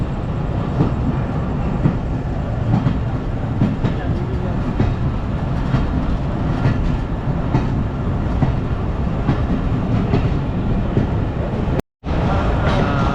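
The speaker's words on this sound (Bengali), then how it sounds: "আমাদের train 99 Dhaka commutator Ishwardi junction থেকে যাত্রা শুরু করেছে" Dhaka Commuter train 99 runs on the rails after leaving Ishwardi Junction, a loud, steady rumble with clattering wheels heard from on board, broken by a brief dropout near the end.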